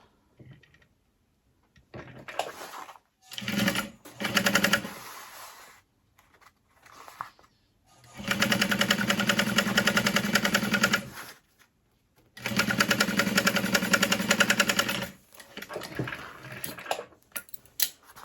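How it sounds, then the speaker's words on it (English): Sewing machine stitching along the bottom edge of a vinyl cross-body sling bag: short bursts of rapid mechanical whirring, then two long steady runs of several seconds each, close and loud, separated by pauses. "flip right sides together and sew along the bottom edge"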